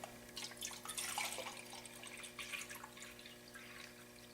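Two cups of measured water poured into a pot set on a camp stove burner, a steady splashing trickle with a brighter gush near the start, close and fairly quiet, no talking.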